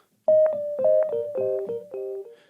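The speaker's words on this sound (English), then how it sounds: "So on its own, filtered echo sounds like" A short synth sequence from the Native Instruments Electric Keys Diamond, plucked notes stepping downward, each note trailed by filtered echoes that smear into the next, ending in a fading tail.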